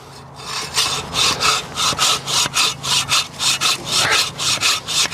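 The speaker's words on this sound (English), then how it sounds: "Pull saws just slice through it like butter." A Japanese-style pull saw cuts through wood in steady back-and-forth strokes, about two per second, each a loud rasping rush, close and unaccompanied by speech.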